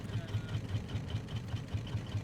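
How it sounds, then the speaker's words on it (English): Raft engines on an upgraded raft in the Raft video game run with a steady low mechanical chug, a regular pulsing throb at a fairly even volume under a faint background bed. "Turn the engines on."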